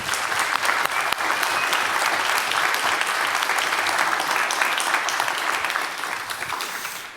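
Audience at an event breaks into sustained applause, a dense, loud wash of clapping from many hands that holds steady for several seconds before tapering slightly at the end.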